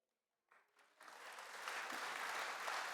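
An audience at a course session on African American music starts clapping for the presenters after a short silence, the applause building quickly into steady clapping that stays fairly faint.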